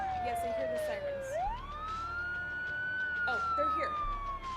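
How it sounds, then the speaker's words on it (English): Emergency vehicle siren wailing and sweeping up and down in pitch, continuous and fairly prominent, with traffic noise underneath and faint voices in the background. "Yes, I hear the sirens."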